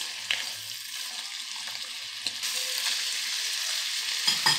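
Vegetables cooking in a pan for Asian-style noodles, a soft steady hiss with a few faint clicks and a small clatter at the end, no talking.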